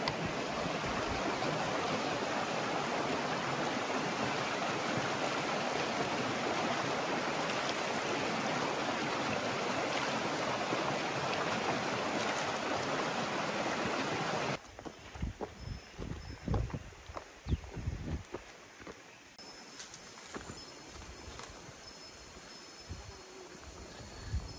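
A river flows through a remote forest, its loud, steady rush of water filling the first fifteen seconds before it drops to a quieter, patchy wash with scattered nearby rustles and knocks.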